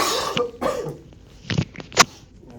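A person coughs several times in short, harsh bursts with gaps between, close and fairly loud, with no talk.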